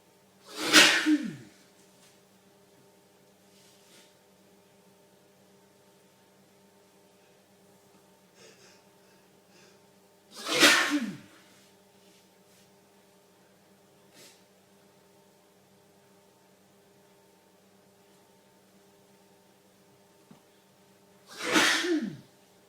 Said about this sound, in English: I'm still sneezing.